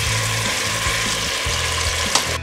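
Chicken pieces frying in hot ghee for a North Indian biryani give off a steady, dense sizzle with soft low bubbling beneath, close up and without speech.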